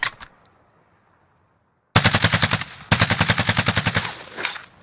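Automatic fire from an MP5 in Call of Duty Warzone, heard as two long, loud, evenly spaced bursts of rapid shots after a single shot and a short silence.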